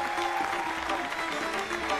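An audience applauds during a Persian talk show, a steady patter of many hands clapping evenly for a couple of seconds without voices on top.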